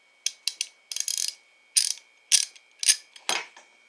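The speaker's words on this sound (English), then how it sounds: "socket wrench." A socket wrench ratchets in short bursts of sharp clicking, about eight separate spurts spread across a few seconds, close and clear against silence with a faint steady tone underneath.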